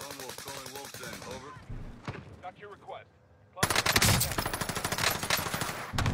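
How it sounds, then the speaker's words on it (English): Gunfire in the video game Warzone: rapid bursts of automatic shots, mixed with players talking over voice chat, then a loud dense volley near the end. "I'm getting shot from somewhere"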